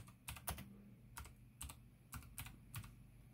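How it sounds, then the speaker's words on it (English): A computer keyboard being typed on to enter a game name, heard as short bursts of clicky keystrokes in a loose irregular rhythm, close up with nothing else in the background. "So then you do the game name. So you just type in Kirby"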